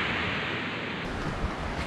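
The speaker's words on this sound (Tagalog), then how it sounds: "Grabing lakas ng alon." Strong waves crash at Polungpong Beach in a steady, noisy wash of surf mixed with wind, with a slight rise partway through.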